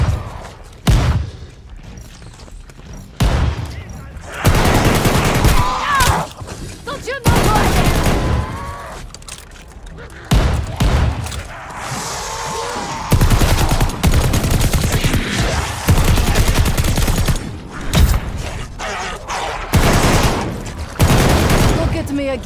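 Loud, close gunfire in the Call of Duty Vanguard zombies mode, with long sustained bursts and heavy shots on zombies, broken by brief pauses and mixed with game voices.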